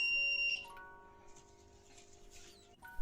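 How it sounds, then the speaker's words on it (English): A steady electronic buzzer tone drones continuously under faint background noise, with a brief higher beep near the start. "even we can hear the buzzer sound"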